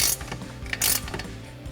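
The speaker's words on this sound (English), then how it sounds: "you can grab a 13mm ratchet wrench. We'll start tightening down our mounting nuts." A 13mm ratchet wrench tightens the mounting nuts of a drop side step bar on a RAM 2500 truck, making quick close clicking ratchet bursts in a short run.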